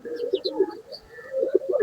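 Pet pigeons coo close by in a rolling, repeated pattern of soft throaty bursts, with a few faint higher chirps mixed in.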